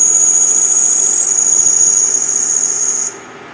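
A lathe carriage feeds a cut on a steel leveling foot for a Cincinnati horizontal mill, producing a loud, steady, high-pitched cutting whine that stops abruptly near the end, leaving a low machine hum.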